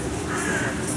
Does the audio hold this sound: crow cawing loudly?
yes